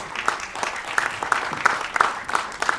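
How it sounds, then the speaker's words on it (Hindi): An audience claps for a series director at a public event, a moderate crowd applause with a few sharp, distinct claps standing out at regular intervals, brief and fairly close. "एक बार जोरदार तालियां for Mr. Omkar, who is the director of the series"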